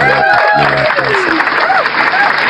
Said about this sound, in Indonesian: tepuk tangan ini baru tepuk tangan gitu